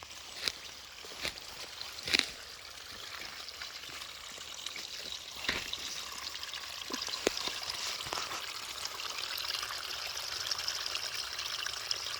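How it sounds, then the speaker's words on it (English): Stream water trickling and pouring past a partial blockage near a tree root outdoors, a steady low gurgle with a few sharper splashes and knocks scattered through, fairly close and without talk. "It's still trying to flow out, even though it's blocked a little bit, but water will always find a path of least resistance."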